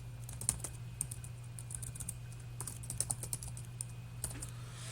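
Typing on a computer keyboard during a history lesson, with a steady run of crisp, fairly close keystrokes over a constant low electrical hum.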